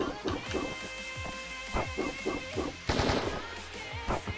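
Rapid bursts of gunfire from the Red Hood hero in the game Lost Saga crack repeatedly, loud and close, with a heavier volley near the end.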